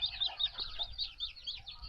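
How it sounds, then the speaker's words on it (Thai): Chick calling from inside a hatching native chicken egg with a cracked shell, a rapid series of thin high peeps repeating close and clear, with faint handling noise underneath; no talking. "ถ้าเราฟังเสียงใกล้ ๆ เนี่ย มันจะมี ไก่เรียกอยู่ด้านในนะครับ"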